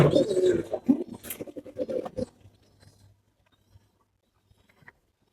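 Pigeons coo and flutter close by in a pigeon loft for about two seconds, then the sound drops to near silence with a few faint, scattered noises.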